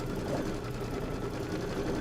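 An embroidery machine stitches out a Kimberbell design with a steady, fast mechanical whirring and needle chatter, continuous and close with no talking.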